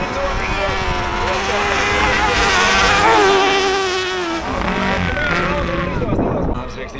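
Hybrid drag race vehicles and quad bikes at a Latvian hill climb drag race scream past with high, rising engine whine and shifting pitch, loud and close, as a commentator talks over them.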